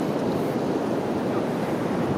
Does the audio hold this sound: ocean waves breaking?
yes